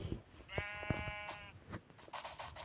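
A faint, quiet bleat of a sheep in a video game rises briefly amid clicks and soft background noises, with a few scattered tapping sounds around it.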